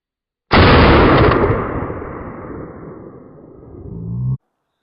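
A single loud 12 gauge shotgun blast firing a hollow point slug at a range, with a sharp, powerful report followed by a long rolling echo that fades over several seconds.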